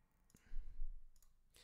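Computer mouse buttons clicking while playing a simple Scratch game, a few sharp, brief clicks scattered over a low background rumble with no voices.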